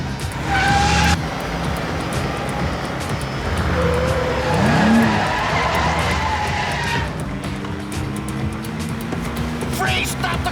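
Car speeding in an action drama scene, a loud engine roar with tire squeals and a skidding screech midway, with people talking and shouting over it.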